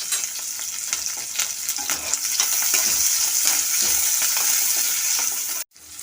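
A large chopped onion and six green chillies frying in a pan as they are stirred, a bright, continuous sizzle with soft scraping strokes that cuts off abruptly just before the end.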